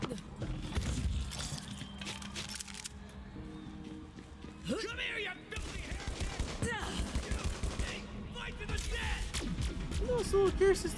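In Borderlands 3, enemies fire at the player in bursts of rapid gunfire mixed with impacts, scrapes and footsteps, under a player's voice talking throughout the busy combat.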